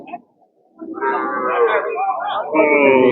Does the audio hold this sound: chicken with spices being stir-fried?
no